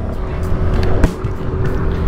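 Yamaha Mio Gear 125 S scooter pulling away at the start of a test ride, a close engine whir with a brief louder burst midway and passing traffic noise around it.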